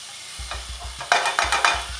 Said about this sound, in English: I'm gonna let the garlic kind of sizzle in it.